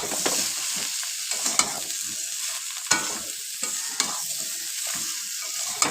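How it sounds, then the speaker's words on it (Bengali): Vegetables sautéing with turmeric powder and salt in a pan give off a steady sizzle, broken by repeated scraping stirs and occasional clacks of the spoon, close and alone. "এবারে হলুদের গুঁড়ো, পরিমাণ মতো নুন দিয়ে আবার ভালো করে কষিয়ে নিচ্ছি।"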